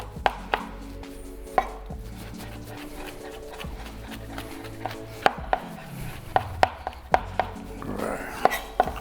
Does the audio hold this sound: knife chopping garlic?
yes